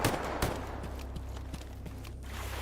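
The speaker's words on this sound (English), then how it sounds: "What are you guys shooting at?" Rapid bursts of video game gunfire crackle in the near distance, a sharp shot opening the run and further scattered pops following, with no voices over it.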